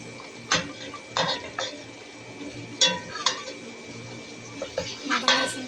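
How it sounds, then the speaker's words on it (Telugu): Mutton and onion going into a cooking pot with salt and spices, a series of clanks and metallic knocks from the pot and spoon, separated by quieter gaps, close by. "మటన్ ఉల్లిపాయ మటన్ అయితే వేస్తున్నాం చూడండి"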